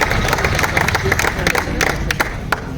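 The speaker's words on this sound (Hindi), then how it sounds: "मैं चाहता हूँ एक बार जोरदार तालियां" Crowd applause and clapping at a comedy kavi sammelan poetry event in Bijalpur, a dense burst of many hands clapping with some cheering, loud and sustained, with a bit of voice mixed in.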